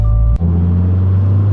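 A car's exhaust rumbles close by in a deep, steady idle. A brief dip near the start interrupts an otherwise continuous low drone.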